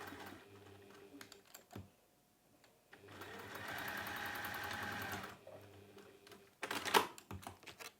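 A sewing machine stitches a fabric pouch in short bursts. A brief run is followed by a longer steady stretch, then more short runs, with handling clicks and a sharp knock near the end.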